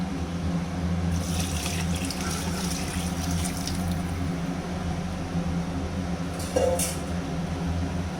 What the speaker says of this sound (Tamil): 8 டம்ளர் தண்ணி நான் இதில் ஊற்றிடுறேன்